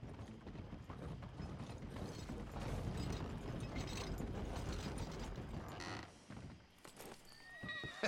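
In the video game Red Dead Redemption 2, a horse's hooves clip-clop and wagon mechanisms rattle and creak at close range, with a horse whinny and brief scattered talk near the end.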